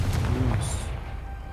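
Confringo blasting spell from a Harry Potter video game, set in a maze, landing as a heavy low explosive boom with a brief crackle, then a rumbling tail that fades out.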